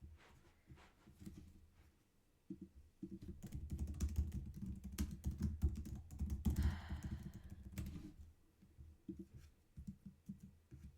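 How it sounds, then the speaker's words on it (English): Forceful, rapid typing on a computer keyboard, close up, with loud thumping keystrokes in bursts and brief pauses. "I was just waiting for you to stop stompy typing."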